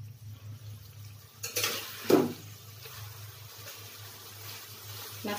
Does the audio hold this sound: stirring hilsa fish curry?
yes